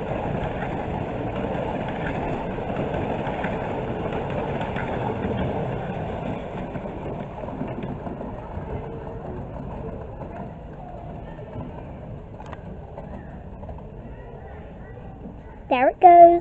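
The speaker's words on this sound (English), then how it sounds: "There goes the Moors Valley Railway train." The Moors Valley Railway miniature train rumbles past, a low, steady mechanical drone that slowly fades as it moves away, ending with a short sharp squeal.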